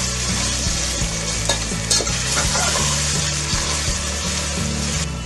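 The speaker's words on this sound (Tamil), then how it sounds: "இஞ்சி பூண்டு விழுது இப்போ நல்லா வதங்கிடுச்சு." Ginger garlic paste sautéing in a pan for a paneer mushroom pulao, a steady loud sizzle with repeated stirring scrapes throughout, no talk.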